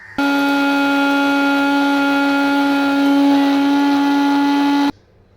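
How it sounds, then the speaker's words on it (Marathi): An electric mixer grinder grinding spice paste for a Sangli-style brinjal dish, a loud steady motor whine that starts abruptly, holds for about five seconds, then cuts off. "सर्व साहित्य आहे ते मी मिक्सरच्या भांड्यामध्ये टाकते आणि आपला मिक्सर आहे तो लावून घेते"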